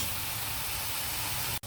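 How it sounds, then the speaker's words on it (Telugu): Shrimp and onions frying together in a pan, a steady close sizzling hiss with no talk, ending in a brief sharp click. "రొయ్యలు కూడా ఉల్లిపాయలతో పాటు ఎగుతాయి"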